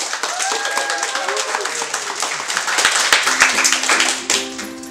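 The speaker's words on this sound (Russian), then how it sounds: "Раз, два, три. Похлопаем." A small group claps hands together in a dense burst of applause, with voices and a faint melodic tone underneath, during a company's New Year greeting.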